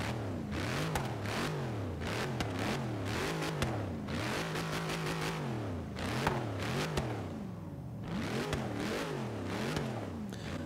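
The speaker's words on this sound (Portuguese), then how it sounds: "vamos escutar o ronco desse carro. Demais, é um ronco muito foda mesmo." Dodge Charger R/T V8 engine in the racing game Forza Horizon 3, roaring and revving repeatedly in rising and falling sweeps, with brief lulls between pulls, close and alone.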